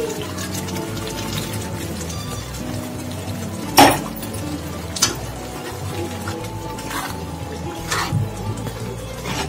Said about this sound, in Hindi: ये जार में जो पालक पीसी थी उसको धो के पानी उसमें थोड़ा डाल के